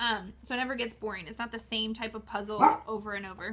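A pet dog barks briefly partway through, its sharp burst cutting across a woman's steady, continuous talking in an indoor room.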